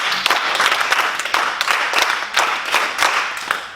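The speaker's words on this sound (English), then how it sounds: "Mike's going to give you a beat and you're going to clap back" An audience team at a summit session claps back a rhythmic beat in unison, bursts of group clapping falling in a repeating pattern with short gaps between them.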